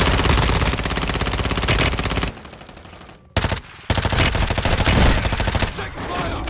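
Rapid bursts of automatic gunfire in a first-person shooter match, loud and nearly continuous with a brief lull in the middle, then more sustained firing.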